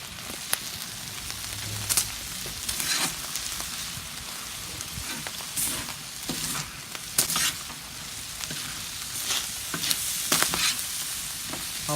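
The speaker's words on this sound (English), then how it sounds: "Give this rice time to fry up good." Rice frying for hibachi shrimp on a Santa Maria grill pulled back off the heat, a continuous crackling sizzle with scattered scrapes of stirring, moderately close and with no talk.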